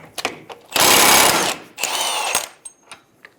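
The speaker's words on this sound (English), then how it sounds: "Using a 32mm socket, remove the axle nut." Two bursts of a power tool, likely an impact wrench, spinning off a 32mm front axle nut on a 2000-2007 Ford Focus during CV axle replacement; loud, close and whirring, separated by a short pause, with small clicks and clanks around them.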